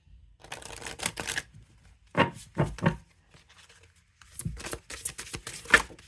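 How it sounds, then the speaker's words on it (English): A deck of houseplant-themed oracle cards is shuffled in several quick bursts of riffling and flapping, close and fairly quiet, with brief silent pauses between bursts and no talking. "Yeah, it's a good over shuffle. Let's shuffle one more time."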